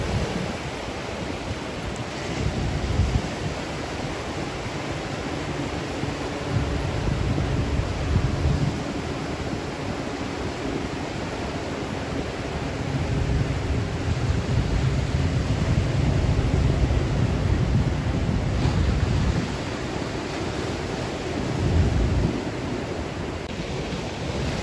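Rough Pacific waves break on a California shore, a steady broad roar of surf swelling and easing with each set, with wind buffeting the microphone and no talk.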